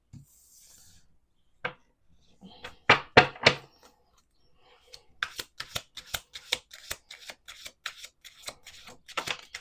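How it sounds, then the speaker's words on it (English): Cards being shuffled in short crisp bursts, a few riffles early on and then a rapid run of quick flicks, close by with no voices. "Let's do one more shuffle."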